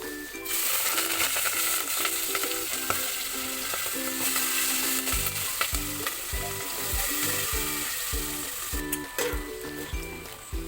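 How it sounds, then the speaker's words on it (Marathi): Mixed vegetables with turmeric sautéing in a pan for a festival vegetable dish, a continuous close sizzle with rhythmic spatula scraping and stirring strokes, no talking. "आता आपण ह्या भाज्या आहेत ना, ते पूर्ण परतवून घेऊ"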